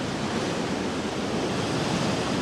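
Ocean waves crashing against the rocky shore at Portreath, Cornwall, just before Storm Darragh, a loud continuous roar of surf mixed with wind buffeting the microphone, with no voices.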